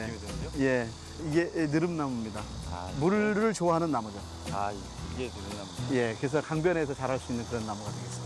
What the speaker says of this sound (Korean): 뭐 매미도 울고요